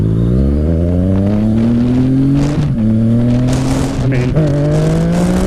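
A Yamaha FZ-09 motorcycle accelerates hard in A mode, its engine note climbing steadily through rising revs with brief dips at gear changes, loud and close, while a rider talks briefly over it.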